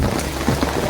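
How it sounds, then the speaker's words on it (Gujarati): Heavy rain pours on a farm in a steady, close, dense patter with no voices over it. "ફૂલ વરસાદ ચાલુ છે।"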